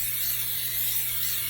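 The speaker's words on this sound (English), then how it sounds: "I'm gonna spray this one." An airbrush spraying colour onto a chocolate rum fruit cake gives a continuous, even hiss with a faint low hum beneath it, steady throughout with no talking.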